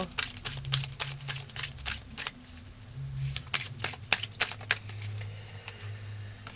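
Everyday Witch oracle cards being shuffled by hand in repeated quick riffling bursts with light taps, close up against a low background hum, no talk.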